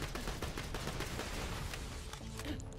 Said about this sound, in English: People are shooting? Yeah, there are turrets.